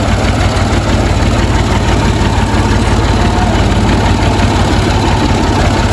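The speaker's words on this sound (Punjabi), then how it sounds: "ਟਰੈਕਟਰ ਇੱਥੇ ਕਰੀਏ ਬੰਦ" A heavy diesel tractor engine idles steadily and loudly up close on a farm near buffaloes, with a deep rhythmic low chugging throbbing throughout and no pauses.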